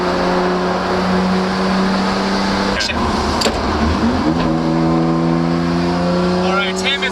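A Nissan R34 GTR with an OS Giken sequential transmission, engine droning steadily inside the car, then sharp shift clunks and rising revs as gears change, with voices talking over it.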